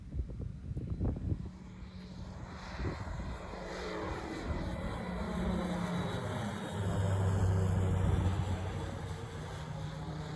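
A Montaer MC-01 light airplane with a Rotax 915iS engine taking off with two aboard in a crosswind, its propeller drone steady and close, building gradually as power comes up and holding through the climb.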